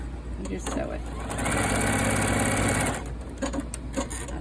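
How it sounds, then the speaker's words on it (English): A sewing machine stitches quilt binding in one short, steady burst of rapid whirring, close by, with brief handling sounds and a voice before and after. "And then you just sew it."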